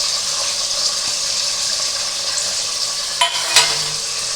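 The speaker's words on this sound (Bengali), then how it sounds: "এখানে কাঁচা পেঁয়াজ আমি কেটে রেখেছি, কতগুলো রসুন ছাড়িয়ে রেখেছি, এটা সব আমি এর মধ্যে দিয়ে দেবো" Raw onion and garlic frying in a pot for mutton curry give a steady close sizzle, with a couple of brief clanks of stirring near the end and no talk.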